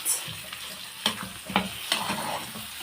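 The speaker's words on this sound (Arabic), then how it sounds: "نقلب بقى كده الكشك مع البيض" A spoon stirs kishk into eggs in a hot pan, with a steady sizzle under a few sharp scraping strokes spaced about half a second apart.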